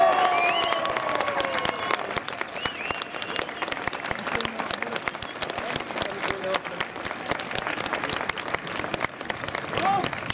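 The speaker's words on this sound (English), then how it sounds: "Give them a round of applause." A crowd applauds at a British Army Royal Engineers sapper bridge-building demonstration, with sustained, dense clapping across the whole stretch and a few whistles and cheers mixed in.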